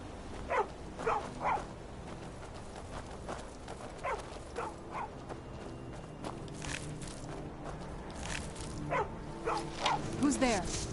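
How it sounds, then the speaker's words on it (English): A dog barks in short bursts with hooflike clopping and footsteps in the fantasy world of Skyrim VR, the barks spaced irregularly and fairly near, while a voice talks at times. "That is a dog."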